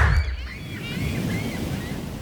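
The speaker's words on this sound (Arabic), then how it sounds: "نحن حاليا بنص البحر برحلة السفينة" Sea waves wash and swirl around a ship far out at sea, with steady wind buffeting the microphone and a constant low rush of water. No talking is heard.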